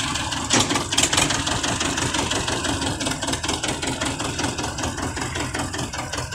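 A TAFE tractor diesel engine runs with a steady, fairly loud chugging rumble, holding throughout with no speech over it.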